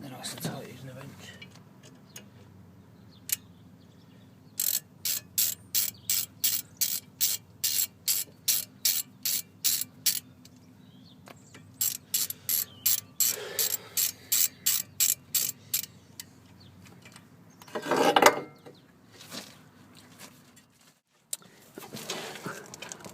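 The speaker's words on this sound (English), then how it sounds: "You should just be able to hand tighten them so far, and then just make sure they're nice and tight using a wrench." A wrench ratchets in quick bursts of rapid clicks, tightening the screws that hold a brake disc, with pauses between runs and a brief spray-like rush near the end; close and fairly clear.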